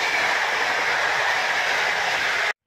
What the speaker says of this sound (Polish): Pociąg towarowy jedzie.